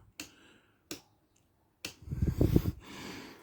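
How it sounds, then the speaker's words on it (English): A 12-volt electrical switch in a pop top caravan gives sharp, close clicks, two isolated snaps followed by a third click and a short burst of rustling handling noise. "if I turn that on there, on that side, you hear it click"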